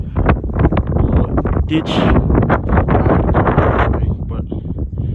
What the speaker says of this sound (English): It's really windy out here, as you can see.